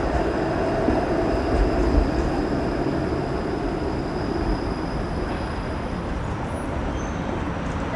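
A Toronto streetcar runs alongside a cyclist on Queen Street, giving a steady broadband rumble and road noise at moderate level, with a faint high whine over the top and no talk.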